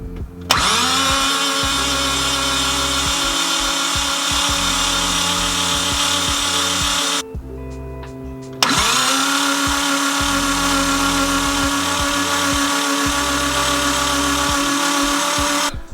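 RB26/30 engine in an S14 Kouki cranked over by the starter with the spark plugs removed, a loud steady whirring drone for several seconds, a short pause, then a second long crank, with no voices.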